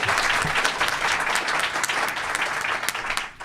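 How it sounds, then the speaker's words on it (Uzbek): An audience applauds to welcome Dr. David Wood before a debate, with dense, steady clapping filling the room at an even level throughout before it cuts off at the very end. "Iltimos, Dr. David Woodni qarsaklar bilan kutib oling."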